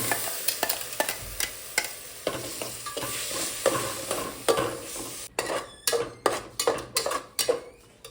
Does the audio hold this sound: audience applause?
no